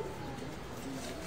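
Pigeons coo softly on a rooftop in Faisalabad, a few low, rolling calls sounding faint and somewhat distant under a gentle background hiss.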